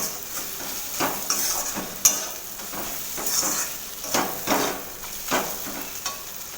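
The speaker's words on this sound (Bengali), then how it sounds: "এটাকে একসাথে ভালোভাবে কষিয়ে নেব।" Chili powder and turmeric being stirred into taro greens in a pan: repeated scraping, clinking strokes of a utensil against the pan at an uneven rhythm, over a faint sizzle, close and moderately loud.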